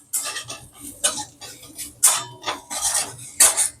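A spoon scrapes and clinks against a pan while okra is stirred into masala, giving several bursts of metallic stirring and tapping in an uneven rhythm, close and clear.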